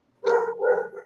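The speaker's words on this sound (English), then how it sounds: "he's barking at it" A dog gives a single close, loud, drawn-out bark that breaks into a second yelping burst, standing alone against a quiet background.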